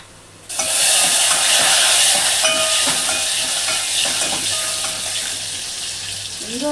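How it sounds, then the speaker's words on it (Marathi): Asafoetida hits hot oil for a Maharashtrian green moong curry, bursting into a loud, steady sizzle that holds for several seconds, with faint stirring clinks riding over it. "आता त्यात थोडंसं हिंग घालूया।"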